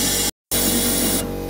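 Spray coating blasted inside the rear subframe of a Smart Fortwo 450, a loud hissing jet that cuts out briefly, then resumes and thins toward the end.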